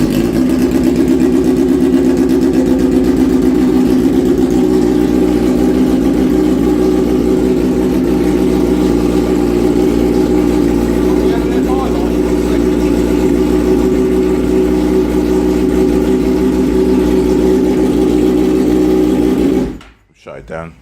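A Suzuki GSX-R1000 K5 motorcycle engine runs on its first start, idling loudly and steadily up close with a low, even drone before it is shut off near the end, while people talk over it.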